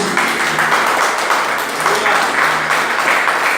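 A church congregation claps together in a dense, steady round of applause that carries through the whole moment without pause, evenly loud and filling the room.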